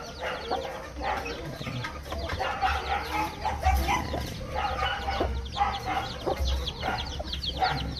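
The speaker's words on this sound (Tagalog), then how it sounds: "Ating sisiw." Chickens and young chicks cluck and peep busily at close range, a steady stream of overlapping calls with occasional louder clucks.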